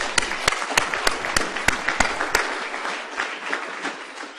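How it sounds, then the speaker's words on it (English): An audience at an academic research retreat applauds to honor a colleague: a dense, steady wash of clapping with several louder, sharper individual claps standing out near the front, fading slightly toward the end. "we need to applaud her."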